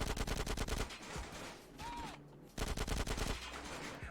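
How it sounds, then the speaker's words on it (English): Rapid automatic gunfire in GTA San Andreas Definitive Edition comes in two short bursts of close, punchy shots separated by a brief lull of softer game ambience. "I need to shoot some of these guys."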